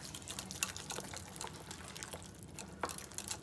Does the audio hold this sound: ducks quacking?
no